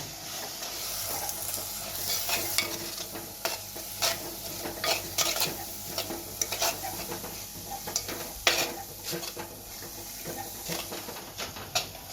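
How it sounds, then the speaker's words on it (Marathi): Spices stirred and frying in a pan for a smoky dhaba-style black rajma curry, with steady sizzle and repeated scraping of a spoon against the pot, close and fairly quiet. "मिक्स करून घेऊया ते सर्व मसाले"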